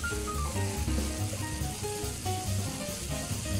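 Spring vegetables and konjac frying in oil over high heat, a steady close sizzle with a faint crackle, continuous throughout and without talk.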